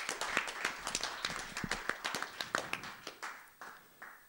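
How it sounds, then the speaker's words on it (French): An audience at a science video festival applauds the illustrators, a burst of separate hand claps from a small crowd that thins and fades over a few seconds. "On les applaudit bien fort."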